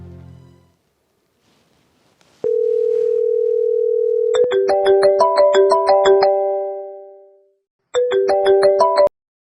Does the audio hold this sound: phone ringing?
yes